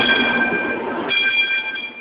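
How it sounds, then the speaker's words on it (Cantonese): A Hong Kong MTR Light Rail train on route 705 runs through Tin Shui Wai with a steady tonal electric whine and rumble, which shifts pitch midway and then fades slightly. "輕鐵705號嘅頭班車朝早5點11分喺天水圍站開出"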